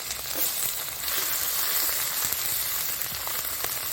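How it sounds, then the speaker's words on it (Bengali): Hissing, crackling sizzle of whole spices frying in oil, steady and moderately loud with a few sharper pops. "এবারে তেলের মধ্যে দিয়ে ভেজে নেব"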